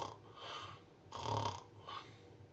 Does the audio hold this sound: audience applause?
no